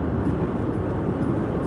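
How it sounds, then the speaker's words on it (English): An airplane roars near Daegu, South Korea, a dense, steady broadband rush heard from inside a moving car, with no talking. "There's an airplane."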